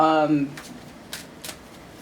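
A brief voice at the start, then a few quick papery riffles of tarot cards being shuffled close by, short and soft bursts.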